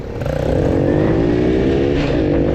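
A Delta 50cc moped and a Viper 150 motorcycle rev hard side by side at close range in an informal race, their engines whining and climbing in pitch, loud and continuous.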